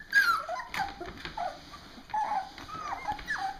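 Bully breed dogs play-fighting nearby, giving repeated high whimpers, yips and growly vocalizations in uneven bursts over a low background.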